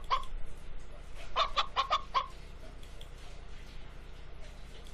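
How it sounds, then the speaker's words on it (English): A big red chicken in a Dora the Explorer click-and-create game gives a quick run of bright, close clucks, one opening cluck and then a rapid cluster of four or five, over a low steady hum. "It's the big red chicken."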